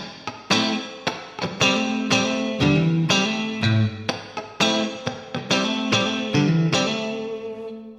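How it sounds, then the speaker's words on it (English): Electric guitar with effects playing double-stop fills with hammer-ons, a string of bright plucked chordal stabs and ringing notes in a loose rhythm, clear and up close. "So if I was to like do double stops for my fill, it would sound like this."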